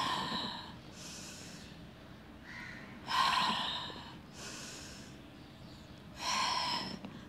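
Forceful exhales during a mat exercise for the hip rotators and glutes, three loud close breaths out through the nose and mouth at a slow, even rhythm, separated by quiet inhales.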